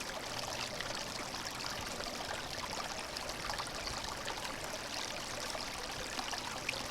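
Water from a hand-pump survival filter streams steadily into a 16-ounce bottle, a continuous close trickling and pouring hiss that holds an even level throughout with no voices.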